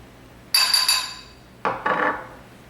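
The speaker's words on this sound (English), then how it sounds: "I just mix it in a white bowl" A utensil clinks and scrapes against a white bowl while mixing cornstarch, in two short bursts of close, bright rattling separated by a brief pause.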